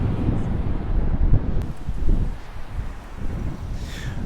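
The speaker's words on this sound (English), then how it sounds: "sorry the wind and the rain kicked up a little bit" Gusty wind buffets the microphone outdoors on the Reno Riverwalk in downtown Reno, Nevada, a steady low roar with a few stronger gusts.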